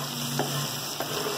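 Garlic and onion hit a hot pan already holding fried bacon and calabresa sausage, giving a steady close sizzle with two brief clattering stirs; no one speaks.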